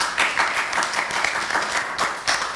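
An audience applauds at a gathering, a fairly steady mid-distance patter of many hands with a couple of swells, and no talk over it.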